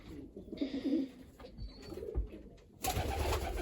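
Sport pigeons coo softly and repeatedly at close range, low throaty murmurs over a steady background hiss, without any talking.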